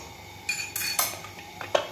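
A spoon clinks and scrapes against a metal pot as meat and water are stirred together for beef yakhni pulao, a few sharp metallic knocks over a soft swishing of liquid, close and fairly quiet.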